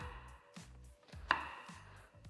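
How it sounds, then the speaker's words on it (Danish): A knife chopping onions on a board, with soft, evenly spaced cuts and one sharper knock, faint and close. "når jeg hakker løg"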